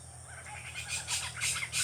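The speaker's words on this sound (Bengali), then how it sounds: "পেঁচাটা ডাকছে" Harsh, scratchy squawks from an owl perched in a tree as night falls come in quick overlapping bursts, fairly close and steady in loudness, with no voices.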